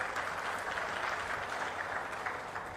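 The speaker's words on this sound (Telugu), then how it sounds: "గట్టిగా చప్పట్లు కూడా చెప్పండి" Dense applause from a large crowd at a public gathering with Chief Minister Chandrababu, steady and continuous throughout, moderately loud with no clear speech over it.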